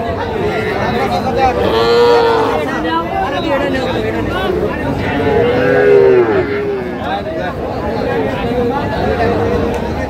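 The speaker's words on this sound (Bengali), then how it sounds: "ষাঁড় বাচ্চা।" A young bull calf moos a few times at a cattle market, drawn-out calls rising over steady crowd chatter and background talk.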